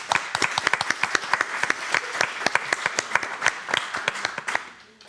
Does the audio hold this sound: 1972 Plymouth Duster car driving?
no